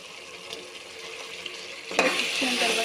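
Mutton for biryani is stirred in a pot over the heat, a soft sizzle under scraping spoon strokes, with a louder clatter and stronger frying hiss toward the end.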